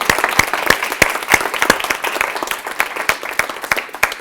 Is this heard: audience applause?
yes